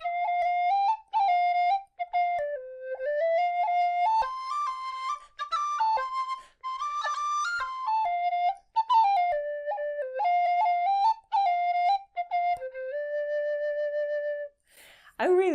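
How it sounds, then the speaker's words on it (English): A tin whistle in C plays the tune Take the Lassie by the Hand as a bright, solo melody of quick ornamented notes, close and clear. It ends with a brief sliding tone. "Let's try this same tune on the C"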